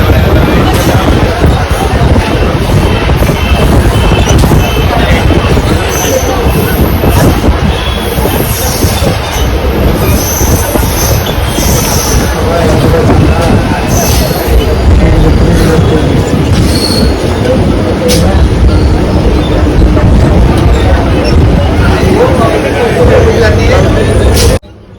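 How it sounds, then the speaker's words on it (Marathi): Busy platform at Boisar station as a MEMU commuter train halts, with a crowd of passengers boarding and getting off. Loud, continuous chatter and shuffling run under train rumble and wheel noise, and voices are heard throughout. "जेवढी चढणाऱ्यांची गर्दी होती तेवढीच उतरणाऱ्यांची पण गर्दी होती इथे."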